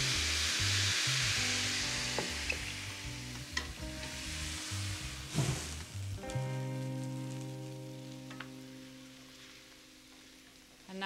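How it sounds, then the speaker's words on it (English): Shrimp sizzle loudly in a hot pan with stirring and scraping, then cognac is poured in to deglaze. The frying hiss and clatter fill the first six seconds and fade into a steady, quieter crackle. "I'm going to deglaze with cognac."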